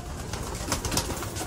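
Breeder pigeons in a loft give soft, low cooing calls over a steady rustling background, fairly close and quiet, with no one talking.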